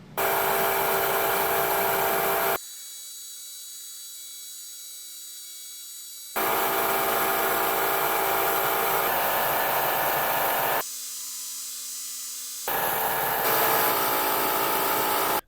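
Power tool cutting slots through steel plate while building a tractor battery compartment cover, in loud sustained bursts separated by quieter idle whirring, with the cutting sound returning several times.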